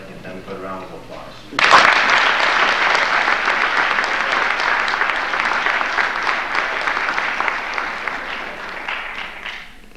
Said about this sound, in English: I'd like to give them a good round of applause